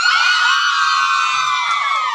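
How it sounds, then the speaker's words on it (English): A crowd of women in a studio audience screams together at an interview, a loud, sustained high-pitched chorus of shrieks and whoops that fills the whole moment. "Ladies, scream."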